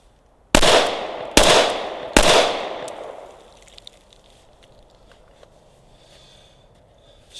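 Three loud, sharp pistol shots from a Glock 21 Gen 4, fired in quick succession at close range, each with a ringing decay, followed by quiet ambience.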